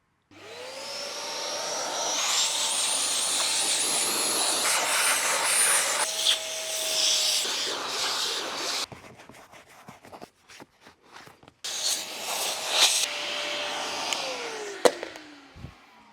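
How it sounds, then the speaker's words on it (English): A vacuum cleaner roars close up on the leather seats of a BMW M3, its tone shifting as the nozzle moves, then cuts out briefly with clattering before running again and winding down. "So we're going to start out by giving it a proper vacuum."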